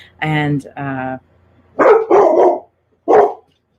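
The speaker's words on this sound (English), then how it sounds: "that's my dog" A dog barks a few loud sharp times close by, in two groups, with a pause between them and brief speech at the start.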